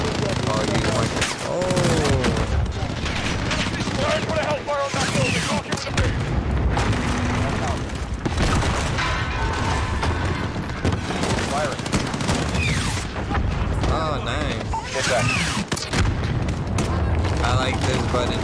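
Heavy gunfire rakes a building during an embassy assault in Call of Duty: Modern Warfare, dense overlapping bursts and booms filling the whole stretch, loud and close, with players talking over the din.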